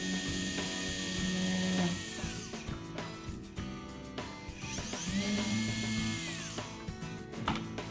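A power drill whines in steady bursts against metal, with pauses and faint clicks between runs; fairly quiet overall with a constant background hum.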